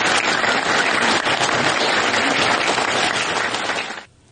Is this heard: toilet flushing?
no